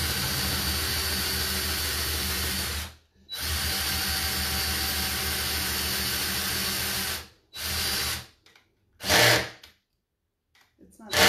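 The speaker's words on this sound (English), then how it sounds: "I'm going to drill this hole out." A power drill with a paddle bit whirs loudly and steadily boring a hole in a cedar chest, then stops, followed by several shorter bursts of drilling separated by pauses.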